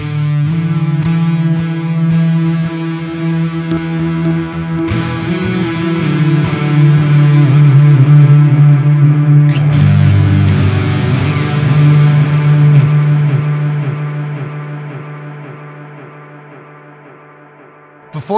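Sustained electric guitar notes and chords played through a PastFx Mischief RAT-style distortion pedal with Space Echo delay; loud, thick and ringing, with a note change midway and a long decaying tail.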